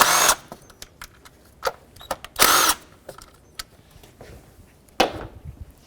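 Sharp clicks and ratcheting taps of a wrench loosening two 10mm nuts on the plastic engine cover of a 2002-06 Toyota Camry, with short bursts of louder rattling between quiet gaps.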